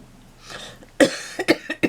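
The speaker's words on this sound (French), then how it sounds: "excusez-moi, je tousse." Several sharp, close coughs in quick succession follow a brief quiet breath.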